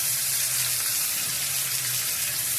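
Curry leaves frying and being stirred in a hot pan, a steady broadband sizzle with a low hum running evenly underneath, fairly close and continuous with no talk.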